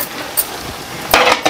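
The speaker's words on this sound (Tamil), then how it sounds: "இப்போ இதை நல்லா கிளறி விட்டுக்கலாம்." Sugar syrup and ghee are stirred in a pan, with a soft sizzling hiss under brief scraping bursts of a utensil against the metal, close up.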